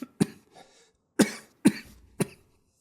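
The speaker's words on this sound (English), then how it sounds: "Oh, just some COVID coughs." Four sharp coughs ring out close and fairly loud, with short gaps between them and one longer pause in the middle, and there is no talking.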